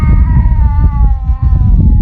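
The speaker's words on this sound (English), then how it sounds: "So I don't know what this cat is saying." A cat lets out a long, loud, wavering distressed yowl, close by and continuous, with its pitch sliding slightly as it drags on.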